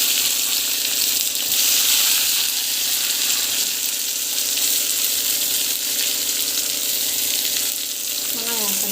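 Onions frying in hot oil with mustard seeds and cumin, a loud, steady sizzle with light stirring scrapes throughout, close up and without talk.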